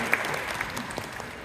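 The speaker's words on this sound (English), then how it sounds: "Everyone please give a round of applause to her." Conference audience in Boston applauding a professional panelist, a short spell of moderate clapping from a seated crowd that gradually tapers, fairly soft and steady.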